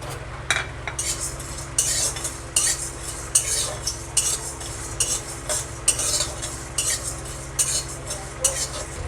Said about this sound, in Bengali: এবার আমি দিয়ে দেব তোমার ফোড়নগুলো ভেজে নেব।